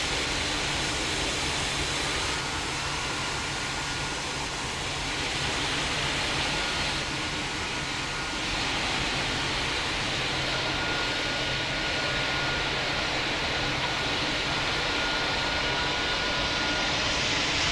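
An airliner rolls for takeoff in the Pilot Training Flight Simulator game, a steady broadband engine roar with an airy hiss that holds at an even loudness throughout, with no voices over it.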